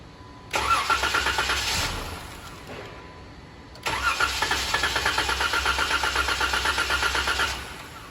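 A car engine is cranked in two separate bursts, each a rapid, pulsing churn lasting a few seconds, with a quiet pause between them. It is heard nearby, with no voices.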